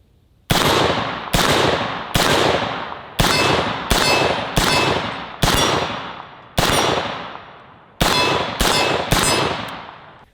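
AR-15 rifle fired with a Holosun red dot sight: ten loud, sharp outdoor gunshots at an irregular, unhurried pace, each with a short decaying ring-out.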